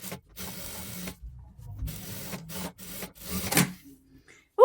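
A home sewing machine stitches a satin-trimmed sweatshirt blouse in several short mechanical bursts separated by brief pauses, close and moderately loud, with no talk.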